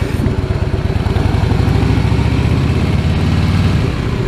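A Harley-Davidson Fat Boy S motorcycle engine idles close by, its steady low, lumpy rumble continuous and loud throughout with no talk.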